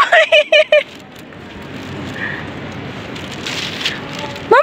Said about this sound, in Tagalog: Umaambon na.